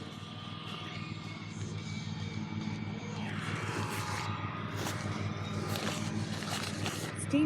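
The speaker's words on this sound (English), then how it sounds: "you can hear the propeller. No, it's a tractor" A tractor engine runs in a field with a steady, droning, propeller-like hum that stays moderately distant and fairly faint throughout, with no speech over it.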